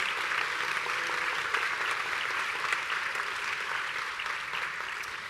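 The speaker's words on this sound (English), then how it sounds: "Please give him a round of applause." A ceremony audience applauds at an Ohio State College of Optometry white coat ceremony, a dense, even wash of clapping held at a steady level throughout with no voices over it.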